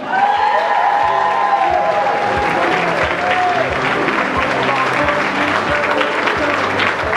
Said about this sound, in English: How about a warm round of applause